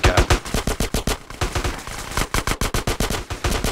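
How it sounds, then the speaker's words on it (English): Rapid automatic gunfire from a shootout in GTA San Andreas, dense bursts of loud, close shots in a fast, steady rhythm with a brief lull in the middle before the firing resumes. "I can only watch them shooting at each other right now"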